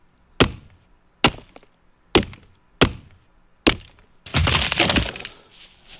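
Foundation being smashed in the video game Scum: five sharp, evenly spaced heavy whacks ring out, then a loud burst of crumbling, shattering debris that tails off.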